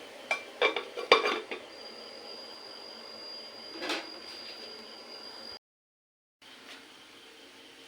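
A metal lid set down on a cooking pot of spiced curry base with turmeric and Kashmiri chilli, giving a few close, sharp clinks and rattles in quick succession, then a steady background hum.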